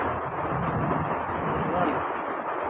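Steady rain falls outdoors in Tondo, Manila, a dense even hiss with a low rumble of thunder mixed in, close and continuous.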